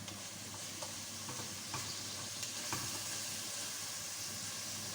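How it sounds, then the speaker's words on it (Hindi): Vegetables fry with keema for a spicy keema aloo matar, a quiet, steady sizzle with occasional light stirring taps, close and without talk. "सब्ज़ी को भी डाल के इसमें भून लेंगे अच्छी तरह"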